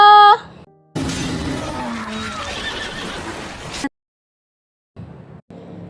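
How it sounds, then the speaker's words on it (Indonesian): A horse on a beach gives a loud, close whinny lasting about three seconds, followed by silence and a brief stretch of faint noise at the end. "Ini juga nih si Gwen, rekan medisnya Jessie, lagi jalan-jalan naik kuda di pantai. Kudanya kelihatan kayak gelisah gitu."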